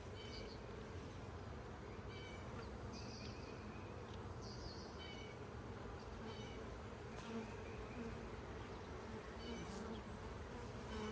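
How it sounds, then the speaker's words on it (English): A dense, steady drone of many honeybees buzzing close by in an open hive during an inspection, with a few brief higher-pitched squeaks over the continuous hum. "there is a lot of bees in this hive"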